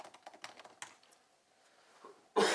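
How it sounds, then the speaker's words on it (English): Rapid keystrokes clatter on a computer keyboard while a .NET run command is entered, a close burst of clicks that trails off before a louder noise at the end. "So I'm just typing .NET run,"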